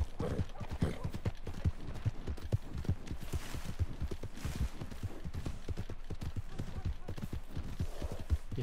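A horse gallops in Red Dead Redemption 2, its hooves drumming in a fast, steady rhythm throughout, close and prominent, with a voice talking over it.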